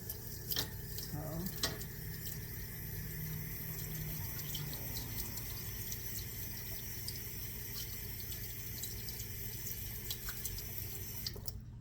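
Water is poured into an einkorn sourdough culture, a steady close-up trickle of running liquid that lasts throughout over a low, constant background hum.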